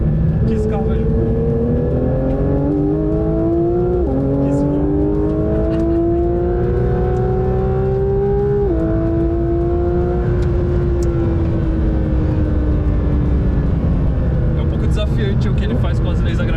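Porsche 911 GT3 RS with a rear-mounted engine revs hard through a corner, pitch climbing in stepped gear pulls then easing off, loud and continuous with a voice talking over it.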